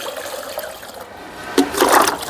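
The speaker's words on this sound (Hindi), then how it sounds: "10 टाइम्स पानी हम लोग ऐसा करके मिलाएंगे" Water splashes and pours as it is mixed into a homemade plant tonic, a steady trickle building to a louder gush near the end, close and with no talk.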